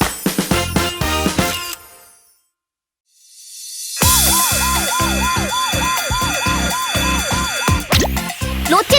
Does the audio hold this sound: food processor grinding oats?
no